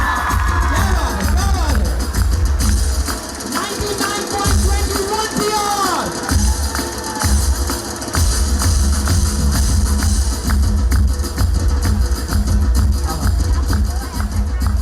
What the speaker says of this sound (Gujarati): જબરદસ્ત તાળીઓ થઈ જાય.